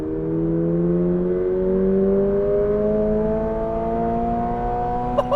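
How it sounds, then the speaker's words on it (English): A 2026 Toyota GR86's exhaust drones with a low, rising hum as it accelerates smoothly, steady and close, ending with a couple of brief clicks. "that exhaust out back is, it's a little boomy"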